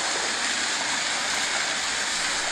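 Rushing water of a river or waterfall in a horror game fills the space with a loud, constant hiss and roar, even and unbroken, with no talking over it.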